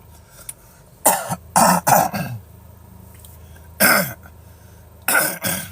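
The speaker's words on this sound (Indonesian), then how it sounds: "Gue lagi batuk nih, maaf ya." A person coughs repeatedly in short harsh clusters, two or three coughs at a time, with quiet pauses between bursts.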